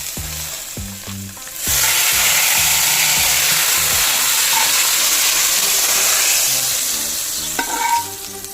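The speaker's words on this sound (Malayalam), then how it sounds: "കുറച്ച് വേപ്പില ഇടാം." Curry leaves drop into a hot pan of prawn curry with a raw jackfruit base. After a few soft knocks and stirs, a sudden loud sizzling hiss bursts out and holds steadily, close and bright, with scraping at the end.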